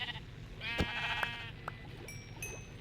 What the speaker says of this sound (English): Right here I'm getting the third sheep